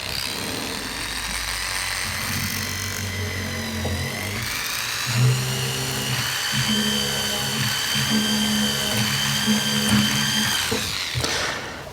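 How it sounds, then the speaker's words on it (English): A tiny 0.9mm drill bit bores a hole through a flat metal plate for flush-setting a round stone, a steady high-pitched whine with a low motor drone running continuously for about twelve seconds, close and alone. "And I'm going to drill a hole all the way through."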